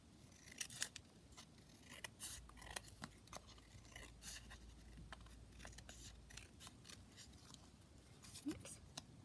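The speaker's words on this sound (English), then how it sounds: "I'm just going to trim my belly band piece just down like that" Scissors trimming a paper belly band for a junk journal: a close series of quick crisp snips in an irregular rhythm, with a soft voice speaking now and then underneath.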